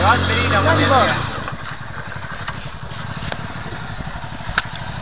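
A motorcycle engine revs and roars during a wheelie, loud at first then dropping to a lower running drone, with people talking over it.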